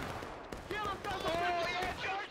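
Musket fire in the video game War of Rights, with several sharp cracks scattered through the moment, partly under someone talking over the action.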